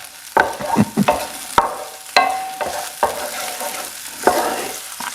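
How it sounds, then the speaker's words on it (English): Onions and garlic sizzle in oil in a frying pan, with repeated scraping stir strokes and clatter breaking through a steady frying hiss, close and fairly loud, with no talking. "You want to hear that sizzle when you put anything in a frying pan with oil."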